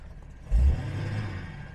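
A Jaguar XJ6 engine with a misfire, warmed up after running a few minutes, gives one quick rev that swells to a short loud peak, then settles into a steady, rumbling idle close by.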